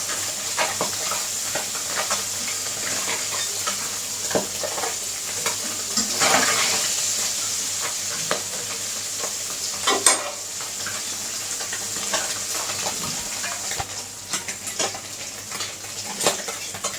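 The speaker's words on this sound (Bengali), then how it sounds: "মাছ ভাজা হয়ে গেছে" Fish fries in hot oil in a pan, giving a continuous crackling sizzle with intermittent clinks and scrapes of a utensil, one louder burst of spattering near the middle and a sharp knock later on.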